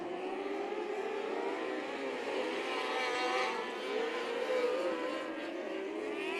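600cc Outlaw Micro Sprint race cars howl around a dirt track, high-revving engines rising and falling as they pass at a distance, blending into a continuous loud drone.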